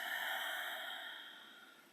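One long, deep exhale of breath during a guided breathing exercise in a movement and meditation class, close and airy, steady and then slowly fading, with no voices.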